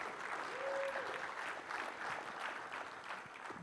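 An audience at the DEVintersection 2017 developer conference in Orlando applauds, a dense, steady patter of many hands clapping for the whole stretch at an even, moderate level.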